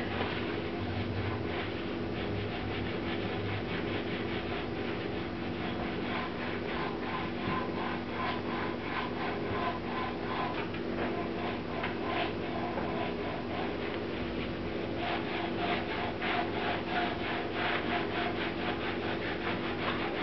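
A paper towel rubs briskly along a freshly waxed bowstring, giving a steady, close, dry swishing friction that runs without a break for about twenty seconds, with no voices.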